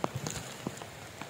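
Rain patters on a farm field in scattered, close drops and taps over a soft wet hiss, with no talk.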